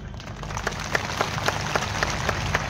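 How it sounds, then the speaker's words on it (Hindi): Buddhist lay followers applauding at a rally for the Mahabodhi Mahavihara liberation movement, a dense, loud, sustained clapping from a large crowd with rhythmic surges, heard alone. "उपासकों की तालियों की गड़गड़ाहट बता रही है कि हमें शहादत के लिए तैयार होना चाहिए"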